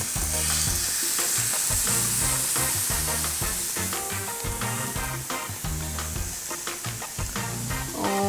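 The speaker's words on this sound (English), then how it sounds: "We want to make sure that the grill pan is nice and hot so that you have a beautiful sear right as that meat touches the pan" Korean short ribs sear on a very hot grill pan, a loud, steady sizzle and crackle that stays dense and close for the whole stretch, with no talk over it.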